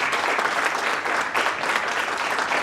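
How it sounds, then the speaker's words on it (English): Audience applause at a Phi Theta Kappa honor society induction ceremony at a community college, a steady, dense wash of many hands clapping that fills the whole stretch without pause. "Give yourselves a round of applause."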